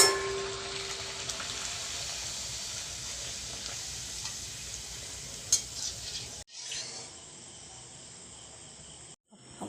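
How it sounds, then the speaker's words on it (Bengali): Luchi deep-frying in hot oil for a festive home meal, giving a steady close sizzle and crackle that runs for several seconds. It drops out briefly near the end, with no talking. "আর লুচি ভাজা কমপ্লিট।"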